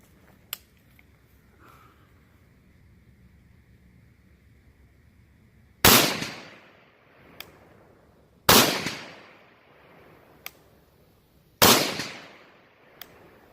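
Three loud, sharp rifle shots ring out on an outdoor range during a 100-yard zero test for a 200-yard zero, spaced a few seconds apart, each with a decaying echo, with fainter clicks and knocks between them.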